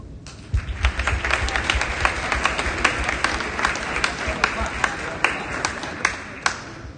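Steady applause from an athletic banquet audience, many hands clapping at once in a dense, sustained wash with scattered sharper claps, no voices over it.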